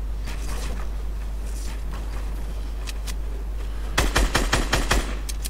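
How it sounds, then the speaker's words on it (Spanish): Rapid gunfire in the video game Fortnite during a duos match: scattered faint shots early, then a loud close burst of about half a dozen sharp cracks near the end. "Un tiro, dos tiros, muerto."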